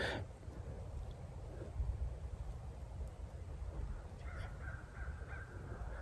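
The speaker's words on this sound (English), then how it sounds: "These crows are trying to tell us something." Crows caw a few times at a distance, harsh calls standing out over a quiet outdoor hiss.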